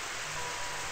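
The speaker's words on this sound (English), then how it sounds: "This is really loud rain." Loud rain in the Lisa the Unbreakable video game, a dense, steady hiss of downpour filling the moment with no breaks and no voices.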